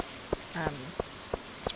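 Soft, steady rain falls in the Stardew Valley farming game, a constant hiss broken by a few light ticks and clicks.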